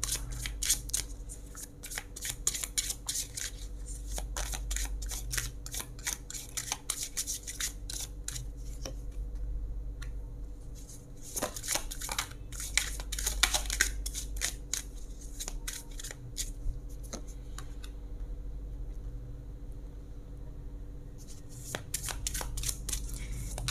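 Tarot cards being shuffled, repeated crisp riffling and sliding bursts with short pauses between them, close and continuous over a low steady hum.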